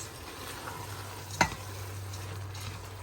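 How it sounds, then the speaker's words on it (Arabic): Rice being stirred in a cooking pot with cooked vegetables for kabsa gives a soft, steady sizzle over a low hum, with one brief scrape of the spoon in the middle. "حرك شوي الرز"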